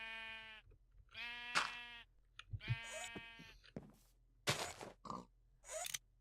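Several sheep bleats in Minecraft, the first couple long and wavering, then shorter bleats mixed with scrapes and thuds over a steady low background hum.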